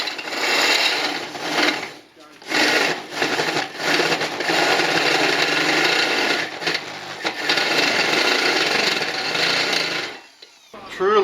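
A hole cutter on a magnetic base drill boring through metal, grinding loudly and steadily with a few short pauses before it stops near the end.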